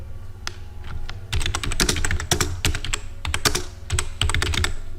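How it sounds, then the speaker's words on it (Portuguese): Rapid typing on a computer keyboard while entering a quick question, with irregular bursts of clicky keystrokes and short pauses, close and clear with no talking. "vamos digitar aqui uma dúvida bem rápida"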